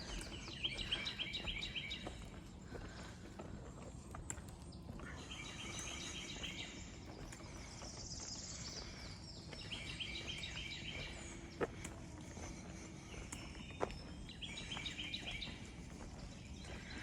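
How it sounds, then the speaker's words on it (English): Birds sing and chirp repeatedly at Lynches River County Park in Coward, South Carolina, on a rainy day, with recurring bright warbled phrases over a soft steady wash of rain and river noise, faint and distant. "There's definitely a lot of birds out here"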